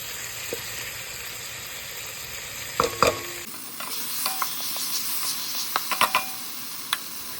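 Fish sauce and tomatoes being stirred in a cooking pot for salmon-head sinigang with miso, a soft sizzle under scattered scraping and clinking of the utensil against the pot, quiet and close.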